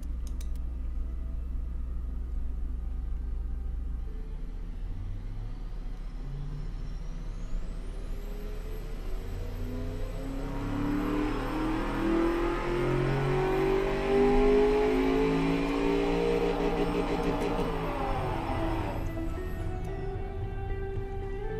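A car engine in the video game Automation revs up, its pitch climbing and growing louder over several seconds before settling back down, with a steady low hum underneath; the car is a 2015 luxury saloon with exhaust bypass valves.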